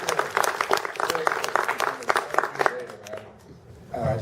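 An open mic audience applauds in a burst of dense, close clapping that thins out and fades toward the end, followed by a voice returning over the room.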